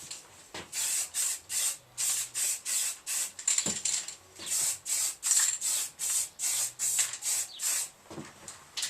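Rhythmic hissing bursts from a spray can or gun, about fifteen short passes in a row, close and fairly quiet, as coats go onto a Harley-Davidson 883 Iron motorcycle belly pan in a home garage.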